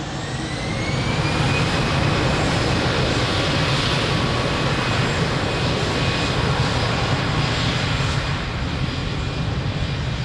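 A jet airliner takes off from runway 02 at Lisbon Airport, its engines building into a loud, dense, sustained roar with a rising whine that stays strong throughout.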